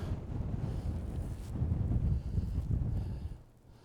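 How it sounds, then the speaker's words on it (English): Wind buffets the microphone on an open Lake District fell near a summit cairn during a fell run, a steady low rumbling roar that swells midway and eases off near the end, with no voice over it. "the wind is blowing right in my face, but hopefully it's not distorting my voice too much"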